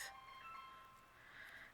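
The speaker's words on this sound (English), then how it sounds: "that's my phone" A mobile phone rings indoors during a cardmaking session, a steady electronic ringtone with sustained tones and a brief swell, fairly faint and heard alone without talk.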